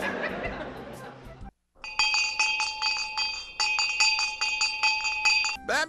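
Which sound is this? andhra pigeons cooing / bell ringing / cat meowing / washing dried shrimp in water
bell ringing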